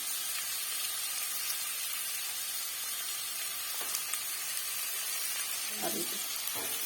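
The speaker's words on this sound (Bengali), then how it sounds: "কমিয়ে কমিয়ে একটু নুন দিয়ে ভাজতে হবে" Cauliflower frying in a pan with salt for singara filling makes a steady, moderate sizzle and hiss, with a few clicks and a brief voice near the end.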